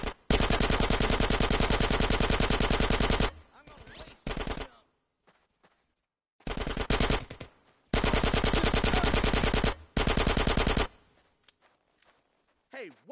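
Heavy automatic gunfire in GTA San Andreas Remastered, with long sustained machine-gun bursts, a pause, then more loud bursts and scattered single shots. Voices speak briefly between the volleys.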